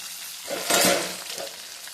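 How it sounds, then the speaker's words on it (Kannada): Onions frying in a pan in a home kitchen, a soft hiss and sizzle that swells briefly midway, with a light stir or clink, fairly quiet. "ಸ್ವಲ್ಪ ಕೆಂಪಾಗ್ತಾ ಇದ್ದಾರೆ ಈರುಳ್ಳಿಯನ್ನು ಹಾಕಬೇಕು ಇದು ಹಾಕಿ"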